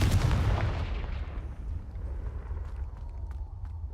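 A Confringo fire spell explodes in the Hogwarts Legacy video game, one heavy booming blast at the start that rumbles and fades over several seconds, with no speech over it.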